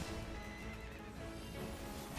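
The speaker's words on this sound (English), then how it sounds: "Did I just hear a horse?" A horse neighs and whinnies in a video game amid faint clip-clopping hooves, quiet and somewhat distant.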